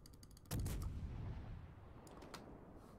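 A warship's guns fire a booming salvo in the naval video game World of Warships, then the roar settles into a rumbling decay. The overall level stays fairly quiet.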